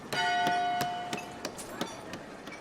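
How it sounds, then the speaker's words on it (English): Church bell tolling in the Foundation city-building game, a clear ringing strike followed by a series of evenly spaced strikes about every third of a second, each ringing out and fading under the next. "every time that bell tolls, Raptor gains a new subscriber"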